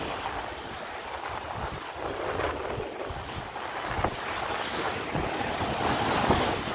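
Ocean waves washing onto the beach at Kribi, a continuous rolling surf with gusts of wind buffeting the microphone and a few sharper splashes, no talking.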